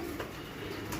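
Pigeons cooing softly in a loft early in the morning before being loaded for a racing toss, a steady low murmur of coos with no talking.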